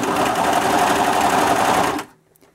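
A serger sewing machine runs fast and steady, gathering a long strip of fabric, then cuts off abruptly after about two seconds.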